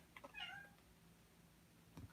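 A house cat meows once, wanting to be let out, a short rising-and-falling cry that is close but soft, followed by faint household noises.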